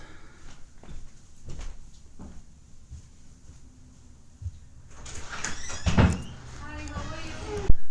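A door opens or closes indoors with wooden clunks and sliding rattles, followed by a sharp final thunk near the end, close and moderately loud. Quiet background noise runs underneath.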